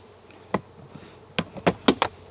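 Honey bees being knocked off a honey frame while pulling honey: a handful of sharp, close knocks and taps, mostly bunched near the end, over a faint, steady background hum.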